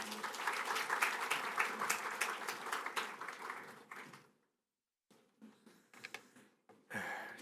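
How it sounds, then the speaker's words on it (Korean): A church congregation claps at a Sunday service to welcome the pastor, loud sustained applause that fades out, then after a pause scattered softer claps and breaths. "목사님 격려한 의미로 우리 박수로 맞이하겠습니다"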